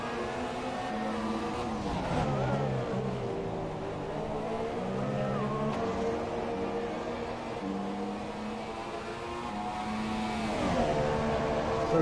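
Race car engines in a Flatout Racing video game scream continuously at the Australian Grand Prix, their pitches rising and falling through gear changes as several cars run side by side, loud and steady throughout.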